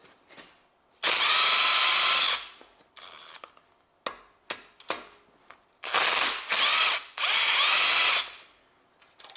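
A ratchet loosens camshaft cover bolts on a Honda Civic 1.8 engine in two loud, sustained bursts of rapid clicking, separated by shorter ratchet strokes and metallic taps, with no voices.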